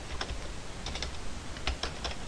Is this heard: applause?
no